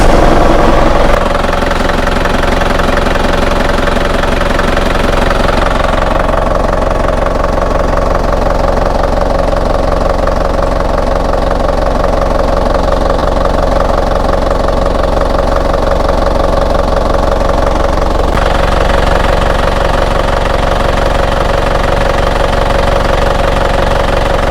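A vehicle engine idles steadily up close, a continuous low hum with a faint knocking rhythm that holds unchanged for the whole stretch, with no talking.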